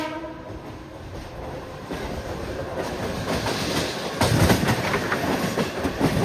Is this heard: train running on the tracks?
yes